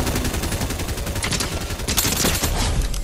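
Rapid bursts of gunfire from the video game Fortnite rattle in quick succession, moderately loud and crackling across the whole moment with no talking.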